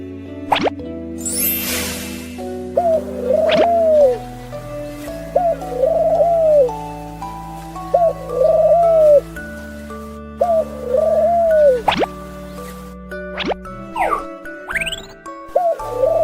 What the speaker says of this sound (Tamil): புறாக்கள் அகவும்